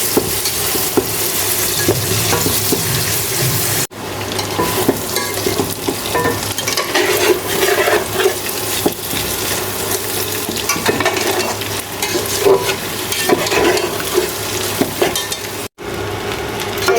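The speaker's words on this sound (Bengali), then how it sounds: "আর এদিকে যে নুডলসের জন্য পেঁয়াজ মরিচ ভাজে নিতেছি" Onions and chilies frying in a pan for noodles, a steady close sizzle throughout with repeated scraping and clinking as the mixture is stirred, briefly cut off twice.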